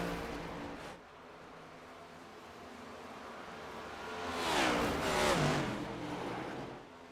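NASCAR race cars in the iRacing video game at Atlanta at night, pulling out of the pits four wide: a continuous engine drone that swells as cars pass close, no talk.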